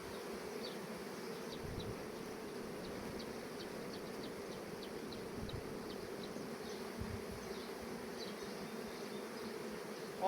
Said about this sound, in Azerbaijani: arılar baxın, burada nektar toplayır dostlar